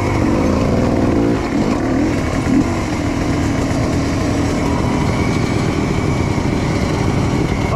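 A motorcycle engine runs roughly and refuses to work properly, giving a loud, continuous uneven drone close by that stays steady throughout.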